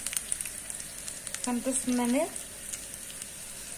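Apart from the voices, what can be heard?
tempering spices sizzling in hot oil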